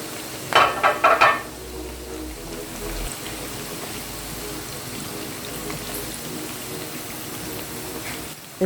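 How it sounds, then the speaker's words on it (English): Onion and dried prawns frying in a pan for Nigerian pepper sauce, a steady soft sizzle throughout, with a few louder clattering stirs near the start. "I fried the onion and prawn for 5 minutes."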